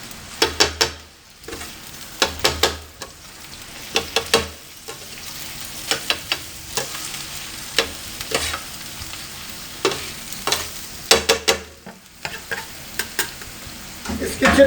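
Goat testicles fry with spices in a pan. A steady sizzle runs beneath repeated bursts of spoon stirring and scraping that come in uneven clusters, close and fairly loud, with no talking.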